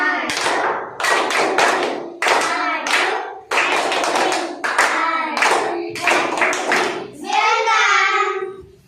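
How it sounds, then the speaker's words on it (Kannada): Children in a classroom clap out a rhythmic welcome clap in short, loud bursts of group clapping, with their voices chanting along between the claps and a final drawn-out call. "ವೆಲ್ಕಮ್ ಚಪ್ಪಾಳೆ ಅಂದರೆ ಸ್ವಾಗತ ಚಪ್ಪಾಳೆ ಹೇಳ್ಕೊಟ್ಟಲ್ಲ, ಅದನ್ನು ಮಾಡಿ ನೋಡೋಣ"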